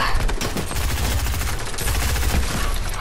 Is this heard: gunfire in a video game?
yes